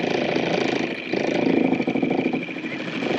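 A motor-driven boat passing near a small 21ft sailing yacht at sea, its engine a steady mid-pitched droning hum, fairly close and continuous, swelling slightly as it goes by.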